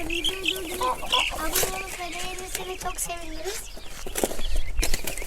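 Broiler chicks, Sasso and Ross 308 along with American Bronze turkey poults, cluck and peep continuously close by, with people talking over much of the flock's chatter.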